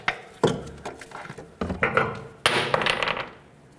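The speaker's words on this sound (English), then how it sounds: "Now pull the axle out." Front CV axle shaft pulled from the transmission of a 2007-2010 Chrysler Sebring: several sharp metallic clanks and knocks, close and loud, with a longer scraping rattle near the end.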